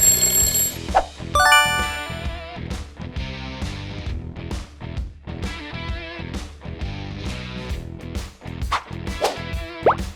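A bright alarm clock rings in a fast, repeating electronic pattern, loud and close, with short pulsed beeps and tones continuing throughout without any talking.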